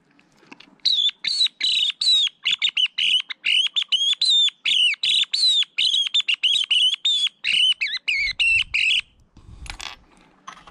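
Stainless steel hunting lark whistles blown in rapid, repeated shrill chirping bursts, close and loud, forming a long trilling sequence that imitates lark song, followed by a few low handling thumps.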